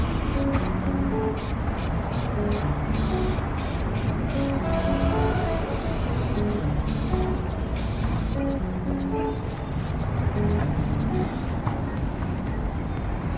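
A Molotow spray can fitted with a fat cap hisses in repeated short bursts and longer sprays on an outdoor wall, loud and close, with traffic and street noise beneath.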